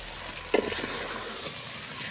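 Chicken sizzles with chicken masala in a pan, a steady close frying hiss with a brief cluster of louder spatters and stirring clinks near the start.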